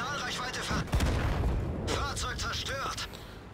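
Tank guns firing premium ammunition in a tank battle game, booming cannon shots and explosive impacts amid continuous battle noise, with someone talking over the din.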